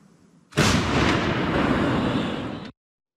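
Brigade artillery firing on a Donbas front line, a single loud close blast that rolls on as a sustained roar for about two seconds before cutting off abruptly.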